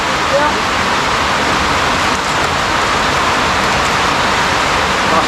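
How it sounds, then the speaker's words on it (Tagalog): Heavy rain pours steadily as a dense, even hiss with no breaks, close and loud, while a voice talks briefly beneath it. "Lakas ng ulan na."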